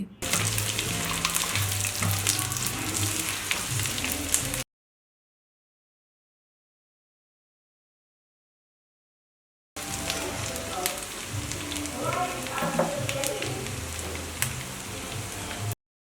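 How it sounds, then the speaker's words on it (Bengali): Potato cubes frying in mustard oil give off a dense, steady crackling sizzle, heard in two stretches separated by a few seconds of silence, with occasional spoon stirs mixed in. "এবারে সর্ষের তেলের মধ্যে আলুগুলোকে ভেজে নিচ্ছি"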